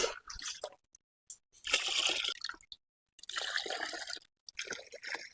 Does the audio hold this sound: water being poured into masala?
yes